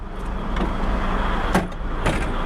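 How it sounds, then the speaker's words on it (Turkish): A latch is shut on a 1996 Renault Major 385 truck: two sharp metallic clunks stand out close by, the second a moment after the first, over a low steady hum of the vehicle. "Şöyle mandalı da kapatalım."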